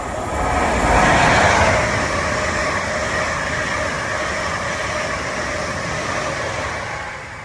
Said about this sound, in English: Okay, so here we are at the train station.